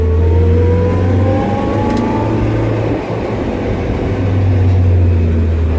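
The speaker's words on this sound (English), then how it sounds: "Third gear right here. Downshift to second." A Toyota AE86 with a manual gearbox drives along with a loud, close engine drone heard from inside the car, its pitch shifting as the driver downshifts from third to second, with a brief dip midway.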